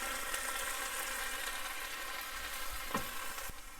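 Onions, cabbage and ham fry in a pan, giving a steady, continuous sizzle with a few soft scrapes and knocks near the end.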